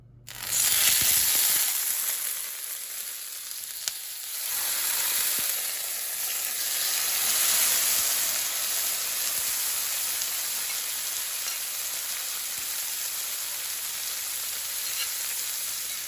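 Tuna searing in smoking-hot olive oil, a loud steady sizzle bursting in at once and holding a dense, crackling hiss throughout, close and alone with no talk.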